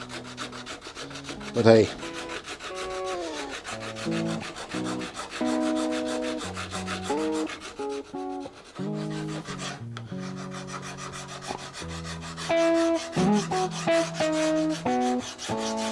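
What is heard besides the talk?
sanding a guitar fretboard radius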